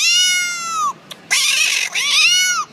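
A cat's meow imitated on a whistle, giving three loud, drawn-out, wailing meows that bend down in pitch at their ends, close by and with no voices.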